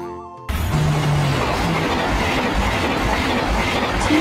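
A TGV Lyria high-speed train running on the France–Switzerland line sets off a loud, steady broadband roar and rush that surges in abruptly after a brief quieter moment and holds up close with no talk.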